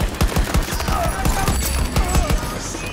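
Gunfire in Battlefield 2042 rattles out as a rapid, loud burst of close shots in quick succession, with a little battle noise behind.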